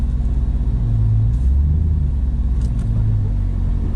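A Chevrolet Camaro SS with an SLP exhaust rumbles close by at low idle while backing out slowly, a deep steady burble with gentle throttle swells and no voices.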